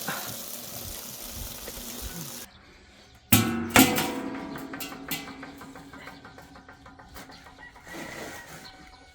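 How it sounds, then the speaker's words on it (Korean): Soaked pine needles are washed by hand in a basin of water, giving close splashing and sloshing bursts with sharp clattering handling noises in the middle, fading to softer swishes. "이제 담가 놓은 거를 이렇게 씻어서"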